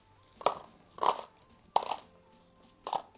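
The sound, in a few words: coins dropped into a small cup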